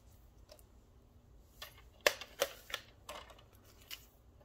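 Scissors cutting down a small clear acetate bag for a Valentine treat holder craft, a few sharp, faint snips and crinkles spaced irregularly in a quiet room.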